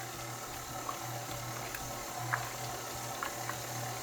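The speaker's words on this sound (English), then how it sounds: "When you hear that sloshing sound, that's when you know, oh, baby, you got milk." Cream churns in a motorized butter churn as it separates into butter and buttermilk, a steady wet sloshing and bubbling over a constant motor hum, close and moderately loud.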